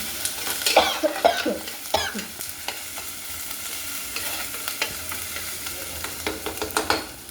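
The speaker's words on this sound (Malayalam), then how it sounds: "പിന്നെ അതുമായിട്ട് നമ്മളൊന്ന് ഇളക്കി കൊടുക്കണം നല്ലോണം" Chopped onion sautéing in a pan while a spoon stirs it: a steady sizzle with scraping and clinking strokes against the pan, loudest near the start and close by, with no talking.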